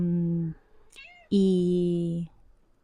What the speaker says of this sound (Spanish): ¡Ay, entró el gato!